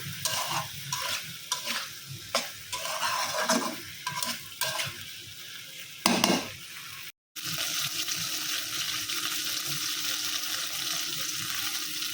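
A curry sautés in a pan at home, giving close, uneven scraping strokes of a spoon over a crackling sizzle. After a brief gap, a steady hiss of frying continues.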